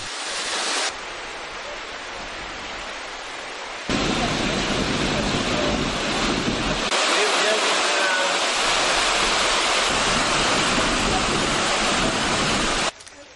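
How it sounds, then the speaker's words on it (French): The large Tamerza waterfall in a Tunisian desert mountain oasis gives a loud, steady rushing roar that fills the whole stretch, with a voice speaking over it. "on peut apercevoir la grande cascade de Tamerza, qui représente bien une curiosité dans cet univers désertique"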